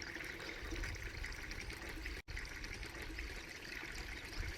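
A steady trickle of water pouring into a pesticide mix without pause, with one brief dropout midway; no voices.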